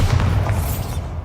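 Bombarda spell explosion in the video game Hogwarts Legacy, a deep rumbling boom that fills the whole clip, loud and close, fading slightly toward the end.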